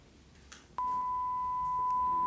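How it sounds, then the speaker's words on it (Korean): A steady 1000 Hz pure sine tone from a physics interference demonstration switches on abruptly and holds at an even, moderately loud level, with faint room noise before it and no talk. "이게 1000Hz입니다. 진동수가 크니까 높은 소리가 들릴 거예요."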